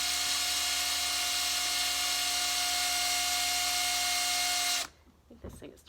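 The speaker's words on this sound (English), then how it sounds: "I'm going to put some 1/4 inch holes also along the top of what will be my top container." A power drill bores quarter-inch holes in a plastic compost bin for a worm composting setup, its steady high whine running loud and continuous for almost five seconds before cutting off into quieter handling noise.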